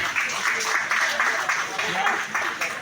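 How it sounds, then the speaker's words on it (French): Applause from an audience at a holiday-club talent show final, welcoming the composer of the set piece as he walks on stage; steady, fairly loud clapping with voices mixed in. "On va l'applaudir pendant qu'il arrive."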